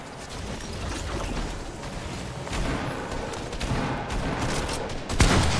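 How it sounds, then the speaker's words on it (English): Fortnite gunfire crackles in rapid bursts and scattered sharp shots, mixed with clattering mechanical clicks, building to a louder volley near the end. "People keep shooting me."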